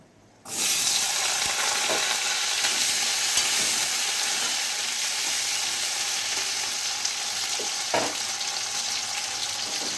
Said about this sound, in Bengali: কেটে রাখা আলুগুলো সেই তেলের মধ্যে একসাথেই ভেজে নেব